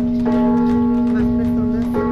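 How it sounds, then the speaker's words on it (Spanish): Cathedral church bells ring out in a steady, sustained peal during a call to Mass at a busy festive plaza, loud and continuous with crowd noise and voices underneath. "al escuchar las campanadas de la catedral"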